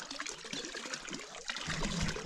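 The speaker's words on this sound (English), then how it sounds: "there's a pretty magnificent water tap right there" Water runs steadily from a tap along a forest hiking trail near Refugi de Rebost in Catalonia. The trickle is soft and continuous and grows slightly fuller toward the end, with no talking.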